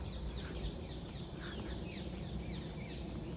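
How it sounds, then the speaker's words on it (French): Birds chirp and tweet faintly across a quiet outdoor wetland scene on a sunny December day, scattered short calls over a soft steady background hiss, no talk. "On entend les oiseaux"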